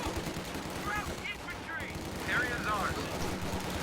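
Riflemen firing in a real-time strategy game battle, a dense crackle of rapid gunfire and distant blasts running continuously beneath a voice talking over the action.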